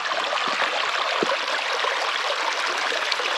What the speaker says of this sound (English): This is the water at Douglas Springs.